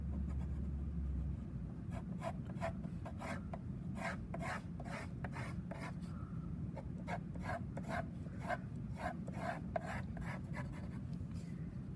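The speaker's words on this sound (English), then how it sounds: "I'm going to hold the cup and draw it" Pencil scratching across paper while drawing the outline of a cup, a steady series of short rasping strokes repeating through the whole stretch, close and fairly soft over a low hum.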